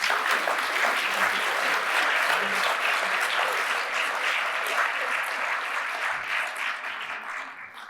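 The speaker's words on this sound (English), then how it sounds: "please applaud the new Fellows of the Academy of Science" An audience in a ceremony hall applauds the induction of new Fellows of the Academy of Science. The sustained, dense clapping stays loud throughout and thins slightly near the end.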